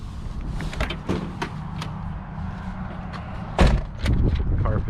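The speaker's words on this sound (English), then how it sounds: "You do have power windows." Power windows on a 1990 Fiat Uno Turbo Phase II whir up and down close by, with sharp clunks and thuds as the glass stops and the doors knock, and a brief voice in the background.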